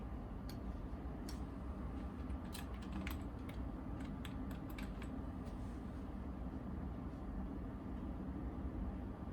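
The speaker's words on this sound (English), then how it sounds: "So I will go ahead and put in a password now. Typing around the tripod as usual." Keys clatter on a computer keyboard as a password is entered, irregular close clicks in short bursts over a steady background hum, then fading out with no speech.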